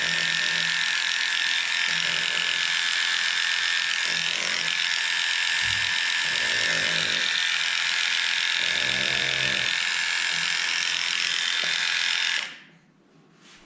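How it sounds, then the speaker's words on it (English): Electric pet clippers fitted with a 50 blade hum loudly and constantly while shaving between a pug's paw pads, with faint thumps and shifts under the buzz before the motor cuts off near the end. "I'm going to take the 50 blade, which is the shortest that I have, and shave this here between the pads."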